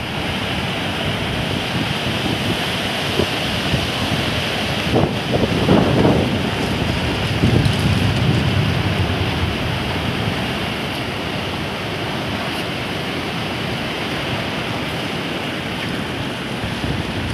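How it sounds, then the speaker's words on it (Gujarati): The Bhadar river near Kutiyana, in flood, rushes past with a loud, steady roar of turbulent water, while wind buffets the microphone throughout. "અત્યારે ભાદર નદી ધોમધોકાર આવી ગઈ છે"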